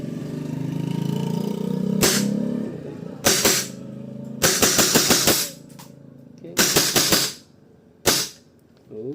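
Modified WE G17 airsoft pistol test-fired over a running motor hum, sharp single shots and quick rattling bursts of several cracks, close and loud, separated by short pauses.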